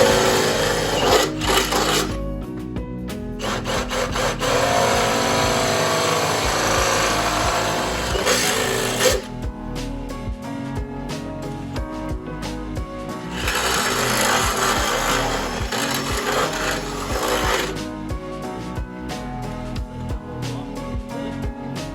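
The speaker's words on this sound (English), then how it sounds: "grab the drill, get the holes out." A power drill bores out engine mount holes during a BMW E30 small-block Chevy swap, whining loudly in two long sustained bursts separated by a quieter pause, close and harsh.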